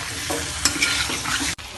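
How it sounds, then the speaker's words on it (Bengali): Chicken bhuna masala stir-fried in a pan, a steady close sizzle broken by scraping strokes of the spoon, with no voices. "2 চা চামচ ভুনা মশলাটি ব্যবহার করে 2 থেকে 3 মিনিট আবার কষিয়ে নেব"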